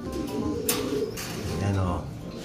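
An injured racing pigeon with a broken leg gives a short, low cooing close by under a noisy background.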